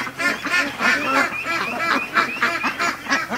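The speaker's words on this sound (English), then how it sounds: "I'm getting stalked by a bunch of ducks" A flock of ducks quacks and honks insistently close by at a lake, overlapping nasal calls coming in rapid repeated bursts with no talking.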